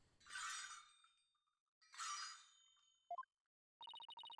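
Small bells on the High Priest's ankles in the video game Apollo Justice, jingling as he walks: a few bright chimes, then a quick run of rhythmic tinkles, close and clear after two bursts of noise.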